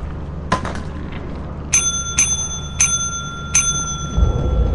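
A bell in the video game Lethal Company rings repeatedly, four bright metallic dings in fairly quick succession over a murky, rumbling game ambience, with an earlier fainter ping.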